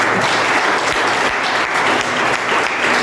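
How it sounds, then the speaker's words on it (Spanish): A church congregation claps loudly and continuously at a Christmas service, dense applause filling the room from start to finish with no voices on top. "denle fuerte, fuerte el aplauso en esta mañana"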